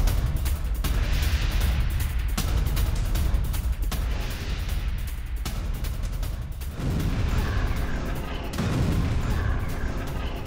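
Bombardment around the Indonesian Hospital in Gaza sounds as a dense, continuous roar of heavy booms and rumbling blasts, loud and overlapping with no pause, in war news footage.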